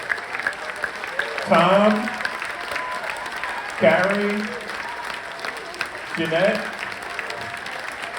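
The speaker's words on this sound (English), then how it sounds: "let's have a big round of applause for Veronica" Audience applause at the Monster-Mania Con 50 Alien and Aliens Q&A panel, a steady wash of clapping that swells in three waves while a voice calls out names over it.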